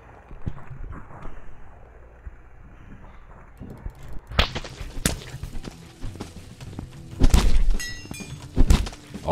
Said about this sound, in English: Oh, I heard his knife drop.